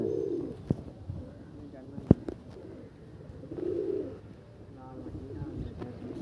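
Pigeons on a rooftop coo in low, throaty bursts, one at the start and another midway, with a few sharp knocks and clicks scattered between them.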